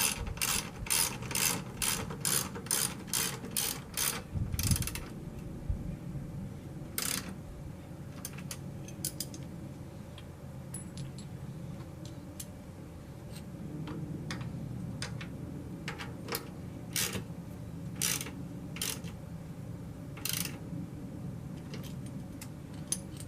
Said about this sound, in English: So they recommend torquing these to the manufacturer's specifications.